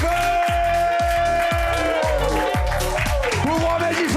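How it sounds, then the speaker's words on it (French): A comedy show audience breaks into applause and cheering for a comedian coming on stage, loud dense clapping under a rhythmic, booming music track with repeated bass hits. "Commencez à applaudir tout de suite, s'il vous plaît"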